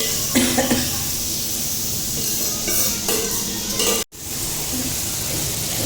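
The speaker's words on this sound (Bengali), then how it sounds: "কাশ্মীরি আলুর দমের মশলা চলছে, কাশ্মীরি আলুর দমের মশলা কষানো।" Vegetarian spice paste of cumin, ginger, chilli, poppy seed and cashew being sautéed in a pan for Kashmiri aloo dum, a steady close sizzle with stirring scrapes, broken by one brief dropout near the end.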